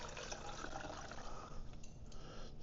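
Liquid is poured off a pot while cooking shrimp and grits, a steady wash of splashing and trickling that runs unbroken at moderate volume with no voices.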